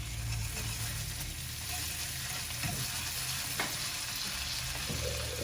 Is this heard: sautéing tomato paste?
yes